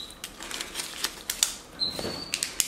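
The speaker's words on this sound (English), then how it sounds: "So Boo's taking the paper right off of it" A monkey tears the paper wrapping off an LOL Surprise Pets toy, making sharp crinkling rips and crackles in quick, irregular bursts close by.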